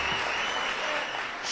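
Applause from a crowd honouring a retiring Ivorian footballer, steady dense clapping throughout the short burst, fairly near and even in loudness.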